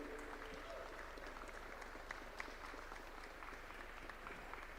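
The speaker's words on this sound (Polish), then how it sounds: "Wielkie brawa dla Izy." Applause at the finals of a Polish barista championship, as a competition judge is welcomed; a steady, distant wash of crowd clapping, fairly quiet, holding evenly throughout.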